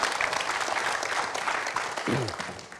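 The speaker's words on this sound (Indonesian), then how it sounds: "Oke, terima kasih, boleh berikan tepuk tangan buat Mas Arjun." An audience claps in brief, fairly loud applause, with a voice cutting in near the end.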